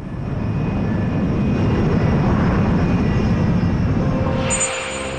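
An airplane approaching a city roars loudly and steadily with a broad, rumbling engine drone, close and constant, before cutting off abruptly near the end.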